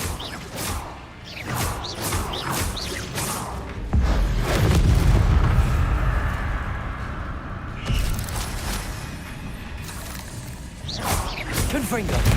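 Confringo fire blast spells in Hogwarts Legacy: repeated booming blasts with whooshing bursts, a heavy rumbling impact swelling mid-clip over continuous game sound, with a voice speaking throughout.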